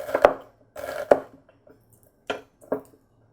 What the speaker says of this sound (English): When you have a really sharp knife, then the chances of tearing up are much smaller. Chop it real fine.